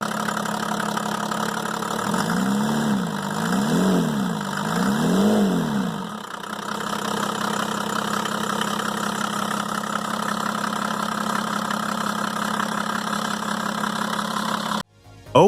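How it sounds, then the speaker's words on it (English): A Mercedes OM606 3.0-liter inline-six mechanical-pump diesel runs with a steady idle clatter, briefly revving a few times early before settling back into an even drone, then cutting off abruptly at the end. "The OM606 is the final and most advanced version of the mechanical pump Mercedes diesel."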